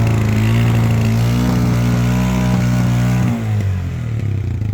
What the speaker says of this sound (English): These three-wheeled vehicles called tuk-tuk